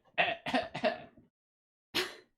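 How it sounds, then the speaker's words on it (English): A short run of throaty coughs, then a pause and one more single cough, close and fairly soft. "Let me cough in it."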